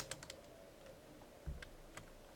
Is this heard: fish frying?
no